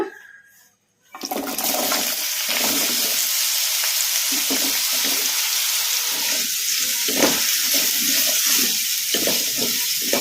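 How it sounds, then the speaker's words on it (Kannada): Cut potatoes drop into hot oil in a kadai after a brief quiet moment, bursting into a loud, continuous, close sizzle that keeps going steadily with occasional stirring scrapes. "ಈಗ ಇದಕ್ಕೆ ನಾವು ಕಟ್ ಮಾಡಿ ಇಟ್ಕೊಂಡಿದ್ವಲ್ಲ ಆಲೂಗಡ್ಡೆ, ಈಗ ಇವನ್ನ ಹಾಕಿ ಫ್ರೈ ಮಾಡ್ಕೊಂಬಿಡೋಣ"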